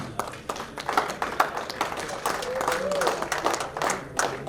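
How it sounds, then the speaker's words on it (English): An audience applauds a runner-up team at a community awards event, with a broad wash of scattered clapping mixed with voices and a faint tone, holding at a moderate level throughout. "A big round of applause to this team."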